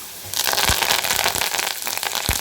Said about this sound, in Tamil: இப்போ இதில் நம்ம கருவேப்பிலையும் சேர்த்துக்கலாம்